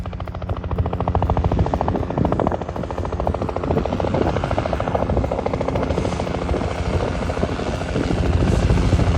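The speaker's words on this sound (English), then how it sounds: "While Alex is waving the helicopter down." A helicopter's rotor thumps steadily and loudly with a droning engine, constant throughout and close overhead, in Greenland.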